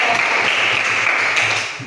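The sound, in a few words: applause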